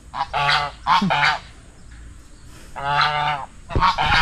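Geese honk in several loud, nasal bursts, a few calls at a time with short pauses between, close by.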